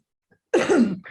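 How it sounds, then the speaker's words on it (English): A single rough, throaty cough from a sick person, close and abrupt, followed by a brief raspy tail. "I'm sick, so I'm coughing"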